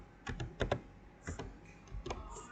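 Someone types on a computer keyboard at close range, producing quiet, irregular clusters of clicky keystrokes with short pauses between bursts.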